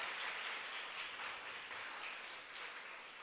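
Church congregation clapping and applauding together at a Telugu worship service, a dense, even patter of many hands sustained throughout at moderate distance, with no speech.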